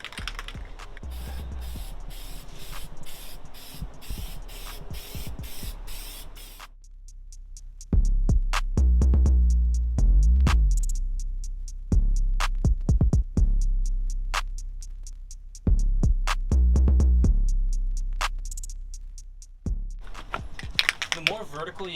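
An aerosol can sprays Plasti Dip onto a 10th gen Honda Civic wheel, starting with a long hissing burst, then a series of shorter sprays broken by pauses. Someone talks throughout.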